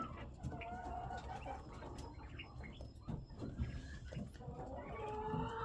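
Quails, eleven birds with three males and eight females, call softly in their enclosure, giving faint scattered chirps and short calls over a steady low background hum.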